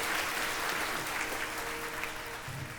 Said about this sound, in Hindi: खूबसूरत जास्मिन गॉर्डन के लिए एक बार तालियां हो जाए